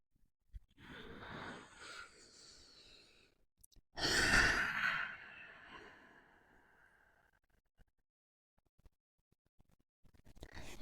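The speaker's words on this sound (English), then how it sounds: "coming back to center for a deep breath here" A deep breath in restorative yoga: a long audible inhale, then a heavier sighing exhale, close and soft, followed by near silence with faint movement at the end.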